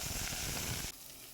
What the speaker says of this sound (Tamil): கருவேப்பிலை வாஷ் பண்ணதுனால தெறிக்கும்.